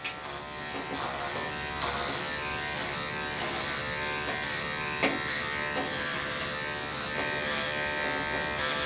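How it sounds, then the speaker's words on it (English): An electric clipper grooms a Goldendoodle's coat, a close continuous buzzing hum that barely changes, with faint shifts as it moves through the fur. "I gotta clean out my clipper here."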